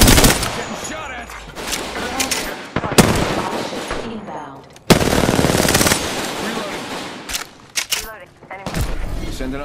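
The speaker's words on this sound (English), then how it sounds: "Getting shot at." Apex Legends gunfire is loud and close, with rapid automatic bursts and heavy impacts that come and go in dense volleys, and a voice is heard in places.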